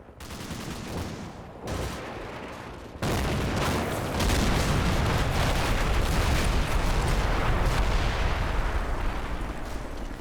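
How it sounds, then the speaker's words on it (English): Mi-24 helicopter rocket strike on a village in the Combat Mission war game, heard as a dense, continuous barrage of loud booms and rapid gunfire with no talking, building after a brief lull near the start. "At the same time, the Mi-24 makes a rocket run on the village."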